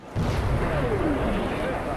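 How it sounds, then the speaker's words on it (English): Explosions from attacks on Ukrainian cities, a sudden heavy boom followed by a sustained low rumble and roar that holds steady for the rest of the short clip. "Explosions rocking several cities, including the capital of Kyiv."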